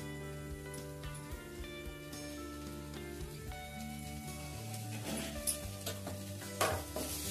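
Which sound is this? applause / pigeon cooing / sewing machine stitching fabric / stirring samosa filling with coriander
stirring samosa filling with coriander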